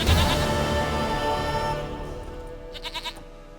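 A goat in The Witcher 3 lets out a wavering bleat that starts loud over a game music bed, then several short, fainter bleat pulses follow near the end.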